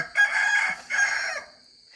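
A home rooster crows twice in quick succession, loud and close, each call a bright drawn-out cry, then fades into quiet.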